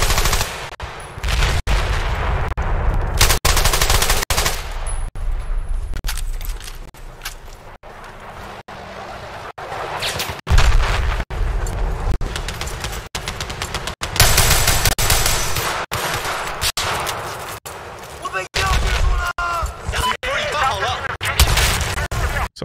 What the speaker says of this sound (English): it allows me to hear what's going on and where that gunfire was coming from